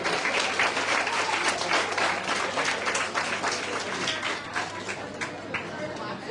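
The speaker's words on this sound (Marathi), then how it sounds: "जोरदार टाळ्या झाल्या पाहिजेत" A crowd at a Shiv Sena competition results ceremony claps loudly and continuously, a dense sustained applause that tapers slightly toward the end, with some chatter underneath.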